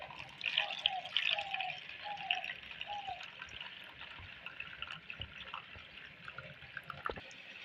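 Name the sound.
washing rice with water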